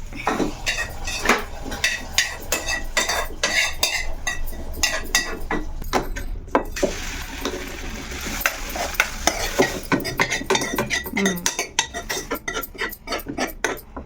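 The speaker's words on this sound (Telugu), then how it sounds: "ఇప్పుడు తాలింపు వేసుకోవాలి" A spoon scrapes and clinks repeatedly against a pan over a steady sizzle of spices tempering in oil for drumstick-leaf dal, busy and close throughout.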